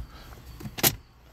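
The glove box of a 1994 Renault Clio Mark I 1.4 RT five-door opens, giving a low mechanical rumble followed by one sharp click or clack near the end, close and quiet inside the cabin.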